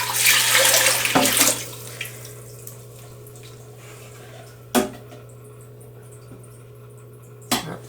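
Water pours loudly into a DIY rimless nano tank for about a second and a half, then stops, leaving near quiet broken by a couple of sharp knocks.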